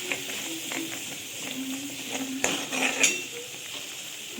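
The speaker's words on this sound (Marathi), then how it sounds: "आता हे मिक्स करून घ्यायचं आहे वाटण, चांगलं परतून घ्यायचं आहे." Black Malvani masala paste being sautéed in a pan, a soft sizzle under scraping and clinking of a spoon against the metal, with a couple of sharper taps.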